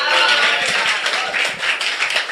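An audience applauds after a stand-up comedy set, a dense, steady wash of many hands clapping at close range for a couple of seconds, with no talk over it.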